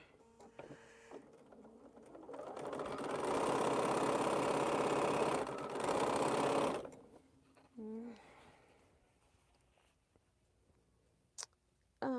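A sewing machine stitching the sides of a quilt runs in one sustained mechanical whir for a few seconds, then stops, followed by quieter handling clicks and brief faint speech.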